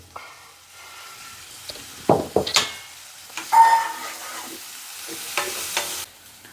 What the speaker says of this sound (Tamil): வெங்காயம் நல்லா பொன்னிறமாக வதங்கிடுச்சு